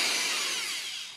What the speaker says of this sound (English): we'll just kind of start drilling that thing out